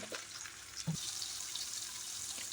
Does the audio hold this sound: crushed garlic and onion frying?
yes